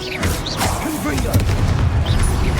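A fiery Confringo blast spell goes off in Hogwarts Legacy, a booming burst with crackles set amid game effects and a voice speaking over it.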